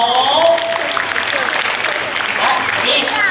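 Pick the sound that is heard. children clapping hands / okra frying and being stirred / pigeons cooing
children clapping hands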